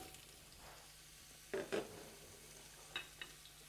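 Carrots, celery and onions roast in a pan, a faint soft sizzle with a few louder stirring scrapes and clatters near the middle and end.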